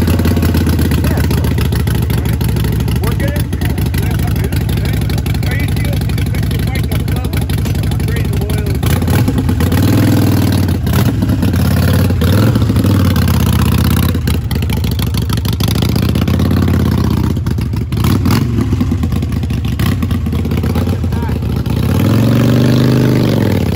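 Harley-Davidson Sportster Iron 883 motorcycle engine while riding, a loud, steady low rumble that swells and eases with throttle changes throughout, with wind buffeting and a voice speaking over it.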